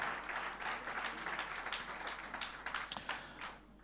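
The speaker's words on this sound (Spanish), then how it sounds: "Fuerte ese aplauso de alabanza al Señor" Sustained applause of praise from a church congregation during a worship service, a dense steady wash of clapping that fills the room for several seconds before easing off near the end.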